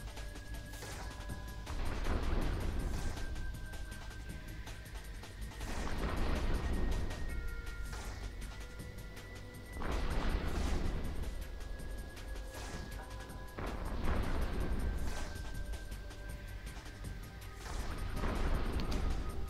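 Ship weapons firing in EVE Online during a level 2 mission, heavy booming bursts repeating roughly every four seconds over a constant low rumble, with steady tonal hums running throughout.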